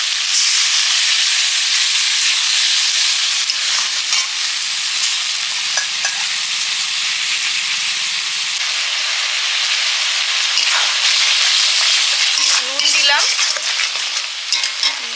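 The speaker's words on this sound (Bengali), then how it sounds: "হলুদ, জল দিয়ে মশলাটা কষে নেব" Spice paste with turmeric and water sautéing loudly in a pan, a dense continuous sizzle and hiss with occasional stirring scrapes throughout.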